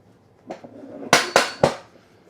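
Wrenches tightening the bolts of a RitFit BWB01 adjustable weight bench produce a soft tap followed by three sharp metallic clanks in quick succession, close and clear.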